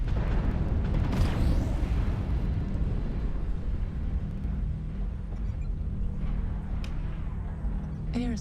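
Airstrike explosions in a video game, a dense, continuous rumbling boom with a sharper burst near the start and scattered crackles, loud and sustained throughout.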